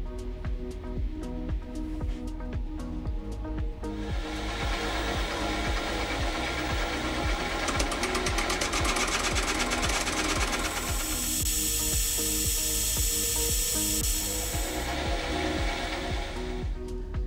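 A lathe takes a light cleanup cut on a soldered metal hoop, giving a steady whirring machine drone with a brighter, hissing cutting sound rising in the middle and ending before the close, with no talking.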